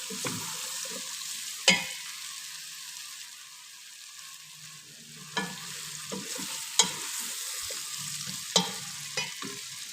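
A spoon stirs chopped vegetables in a pot for red pumpkin soup, giving a few sharp scrapes and clacks against the pot spaced over a soft, steady sizzle from the pan, close and fairly quiet with no voices.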